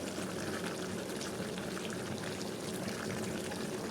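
Chopped onions and whole garlic cloves frying in a pan, a steady close sizzle with a dense crackle that stays even throughout and has no talk over it.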